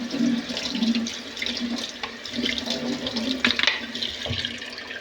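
Running tap water pours steadily over frozen broad beans being washed in a sink, a continuous close splashing stream with small clatters as the beans are handled, no talking.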